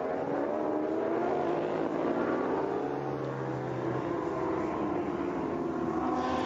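Aprilia superbike engine at racing pace on the Valencia circuit, 2010, a steady loud roar with rising and falling tones as bikes pass, mixed with broad track noise throughout.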